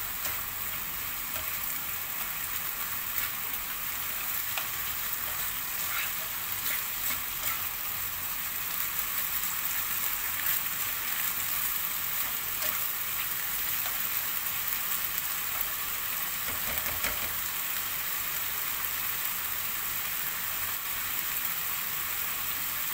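Meat pie filling frying in a pan as it is stirred, a steady close sizzle with soft spoon scrapes running throughout, no voices.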